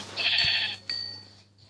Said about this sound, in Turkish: Aa koyun buldum.